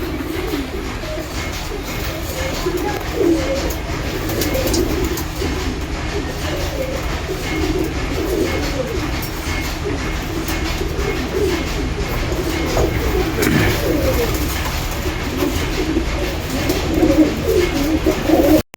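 Pigeons coo on and off while drinking medicated water, with soft repeated low calls under a steady hum of background noise through the whole stretch; no one speaks.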